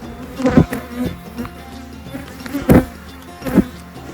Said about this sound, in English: These bees are getting real agitated.